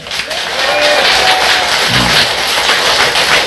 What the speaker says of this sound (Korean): 우리가 저 학생을 위해서 박수 한번 쳐요